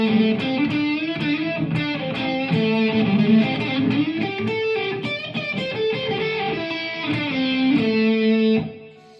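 An overdriven electric guitar through a tube amp head into a 16 ohm cabinet plays a continuous riff with gritty, crunchy tone and busy picked notes, steady and fairly loud, fading out at the end.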